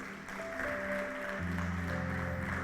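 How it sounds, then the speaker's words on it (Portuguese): A church congregation claps during a worship service, a soft, distant wash of applause beneath sustained keyboard or organ tones, with no talking. "Você pode dar uma salva de palmas a Ele?"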